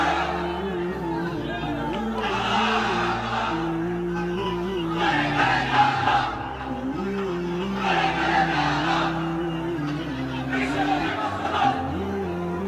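A large crowd of listeners at a religious sermon shouts the takbir together in several loud, rising waves over steady background chatter and murmuring.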